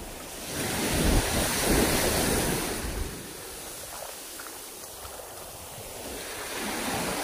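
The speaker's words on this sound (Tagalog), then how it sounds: "Ganda ng dagat oh." Ocean surf rolling in at the seashore with gusting wind buffeting the microphone, a louder wash of waves early on, easing to a softer rush before swelling again.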